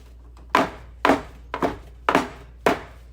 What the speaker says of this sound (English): I'm going to tap my pans to get those air bubbles out